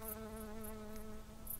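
A bee buzzing with a steady, tonal drone holding one low pitch and its overtones throughout, fairly faint, with small high ticks scattered over it and no talk.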